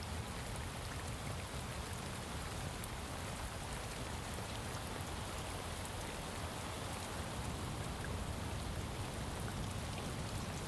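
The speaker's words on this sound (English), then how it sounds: "So because we're out in the rain, without an umbrella, we will get wet." Rain in the video game Shadows of Doubt falls in a steady, even hiss of countless droplets on surfaces, close and uniform throughout with no voices or breaks.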